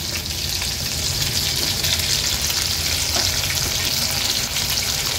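Stuffed chili fritters (mirchi bhaji) frying in hot oil make a steady, close, continuous sizzle and crackle with no break and no voices.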